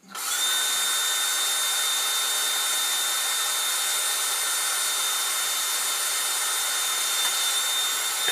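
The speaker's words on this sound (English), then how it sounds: "I'm going to take my drill. I'm going to drill those holes out." Power drill boring holes through the lens of an AM 4.0 stunt helmet, a loud continuous high motor whine held steadily for about eight seconds, close to the microphone and alone.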